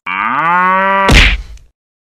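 A cow's sustained, harmonic moo in a cartoon monster fight, cut off midway by a loud, sharp whack as a black demon strikes it, then a brief rumbling fade.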